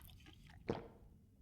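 A single soft, wet chewing squish of someone eating cooked fish in The Long Dark survival game, brief and fairly faint over a quiet low background.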